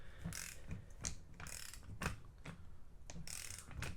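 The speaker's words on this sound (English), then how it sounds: "We're using a 30 millimeter on the camshaft to spin it." Socket wrench with a 30 mm socket turning an engine camshaft, giving a steady series of quick ratcheting clicks and mechanical grinding, close and fairly quiet, with no voices.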